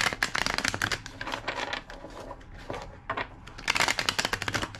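A deck of cards being shuffled, several quick riffling bursts with brief pauses between, close and crisp.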